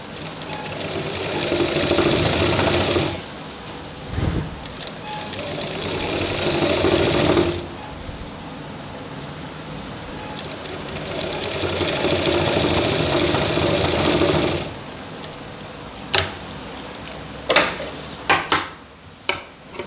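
A sewing machine stitches a shirt in bursts: loud sustained whirring runs from the start to about three seconds, again around five to seven and a half seconds, and from ten to fifteen seconds, followed by sharp clicks and knocks.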